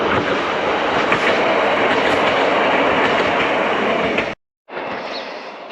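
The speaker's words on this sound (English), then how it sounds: "The train just disappearing was the one running from Oakhampton into Exeter, and that doesn't stop here." A passenger train on the Tarka line, the Exeter to Barnstaple route in rural Devon, roars past at close range with a steady, loud rushing rumble that cuts out abruptly near the end.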